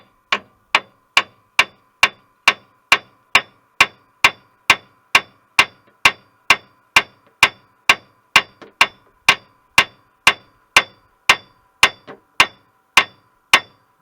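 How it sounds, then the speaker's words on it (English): Sharp metallic hammer blows strike the steering knuckle of a 1997 Chevrolet Blazer under spring tension, in a steady, evenly spaced rhythm, about two strikes per second, loud and close with brief ringing after each hit. "give this steering knuckle here a slam with a hammer"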